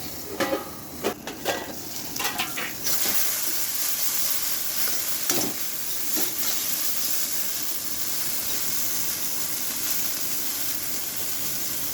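Okra frying in a pan for a mustard okra dish gives a steady, close sizzling hiss, with utensil scrapes and stirring clatter scattered through the first few seconds and no talk.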